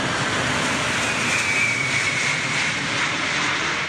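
An Antonov AN-225 cargo plane with six jet engines descends toward Perth International Airport, a loud, continuous jet roar overhead with no speech.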